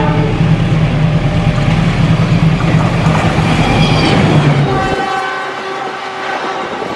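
Toy CC206 KAI locomotive running with a steady rumbling rail hum and a horn-like tone, which cuts off near the end and leaves a quieter mechanical whir.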